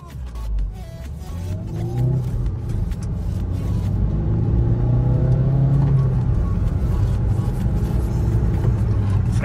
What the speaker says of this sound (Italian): Cominciamo con il test di accelerazione.